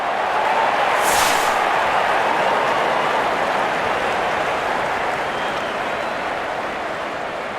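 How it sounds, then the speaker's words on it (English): Loud, steady crowd roar and applause from a Real Cricket video game stadium, holding level across several seconds without speech on top. "The crowd is enjoying every bit of this action."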